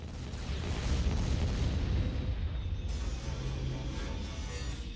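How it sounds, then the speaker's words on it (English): Bombing-run explosions in the Stargate Empire at War strategy game, a dense rumbling barrage of booms that swells then gradually thins over five seconds, heavy low end, no voices. "Bombing run."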